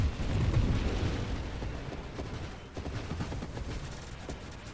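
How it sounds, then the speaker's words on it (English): Rapid saturation-fire gunfire in Nova Drift, a dense, continuous crackle of small bursts and explosions blurring into a roaring wash that gradually eases, heard alone without speech. "Shoot those guys to death."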